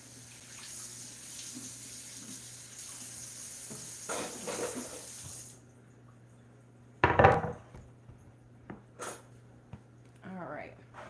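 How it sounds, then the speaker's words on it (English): Tap water streams steadily over a cutting board for about five seconds in a home kitchen, then cuts off, followed by a few sharp knocks and clatters of the board being handled and a quiet, near room. "let me rinse this cutting board off real fast"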